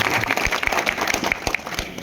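Applause from a crowd at a Vishwakarma community political gathering in Uttar Pradesh, welcoming a journalist from Jaunpur; steady, fairly close clapping with distinct individual claps standing out throughout.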